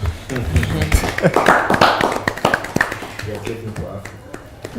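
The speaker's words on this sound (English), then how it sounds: "Can you please clap for yourselves?" Scattered hand claps from an audience applauding itself, uneven and fairly close, mixed with thumps and heard under a speaking voice throughout.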